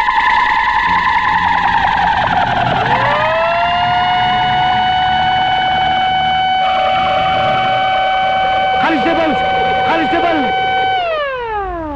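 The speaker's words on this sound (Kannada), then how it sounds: "ಅದೇ ಸಮಯಕ್ಕೆ ಸರಿಯಾಗಿ ಸೈರನ್ ಕೂಗ್ತು" A loud siren rises to a sustained high wail, holds steady for several seconds with a brief warble, then trails downward at the end in a dramatic Kannada film scene.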